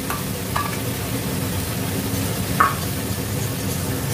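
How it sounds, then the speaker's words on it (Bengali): A spoon stirs potatoes with fresh cream in a pot over a steady low sizzle, with a few soft scrapes and clinks against the pot and no talking. "এইটা দিয়ে আলুটা শুদ্ধ নাড়বো"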